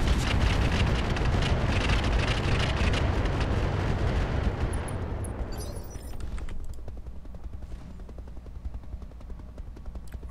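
Mech weapons firing in Roguetech, a dense, loud barrage of rapid gunfire and blasts for about five seconds, then thinning to scattered shots and a lower rumbling tail.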